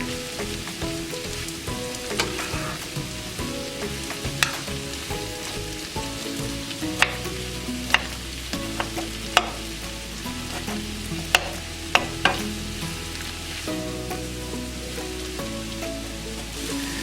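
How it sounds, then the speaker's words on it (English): Onions sautéing in a pan for an Italian meat and tomato sauce, with a steady sizzle and occasional sharp clicks of stirring over a low background hum, no talking. "saute for about 10 minutes until the onions are nice and translucent, a little bit brown, not burned"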